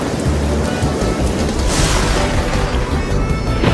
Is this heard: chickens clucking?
no